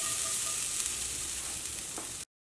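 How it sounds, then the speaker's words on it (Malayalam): A handful of grated coconut frying in a pan for a soya chunk curry, a steady close sizzle that runs unbroken before cutting off abruptly. "ഇനി ഞാൻ ഇതിലേക്ക് കുറച്ച് തേങ്ങയും കൂടിയിട്ട് വറുത്തെടുക്കുന്നുണ്ട്"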